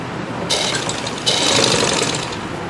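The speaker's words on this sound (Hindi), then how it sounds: "ऐसे मैं ऐसे सिलाई लगा दूंगी इसको।" A sewing machine stitching the hem of a salwar runs in two steady whirring bursts, the second longer, close and fairly loud.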